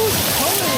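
Salt water from the sea at An Bang Beach splashing right over the microphone, a brief loud, dense wash of spray and turbulence with a muffled voice mixed in.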